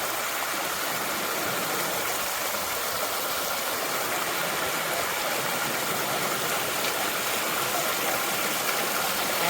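Water flows steadily at Bisso pond near Hulangala Mini World's End, giving a continuous broadband rush at even loudness with no voices.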